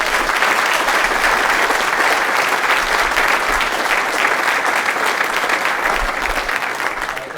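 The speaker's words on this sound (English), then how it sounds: "One more round of applause for Ava Bianchi." A steady, loud round of audience applause fills a school enlisted and service academy recognition ceremony, dense and continuous clapping for the full stretch with no talk over it, fading slightly at the close.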